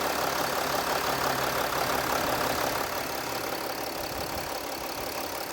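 Car engine idling evenly after a fuel system service, a steady close mechanical hum and hiss with no talk.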